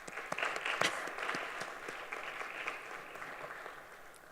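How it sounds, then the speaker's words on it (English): A college convocation audience claps for cancer survivors, a fairly faint spread of many hands with scattered sharper claps standing out early, fading gradually over a few seconds. "let's give a round of applause for cancer survivors anyhow"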